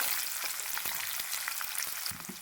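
Chopped onion pieces hiss and crackle loudly as they hit hot tempering oil with chillies and green chillies for perugu pachadi, a dense continuous fry with scattered pops and a sharper burst near the end.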